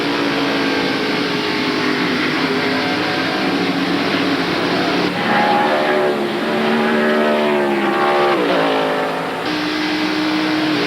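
Race cars at the 1993 Save Mart Supermarkets 300 roar steadily past, a loud continuous engine drone with rising and falling pitch sweeps as cars accelerate off a turn, no talk over it.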